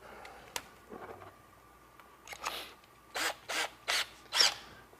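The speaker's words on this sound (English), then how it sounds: "Get the power tool out." A power tool drives reamers into a fishing rod handle, giving a few faint scrapes followed by four short, rasping bursts in quick succession near the end.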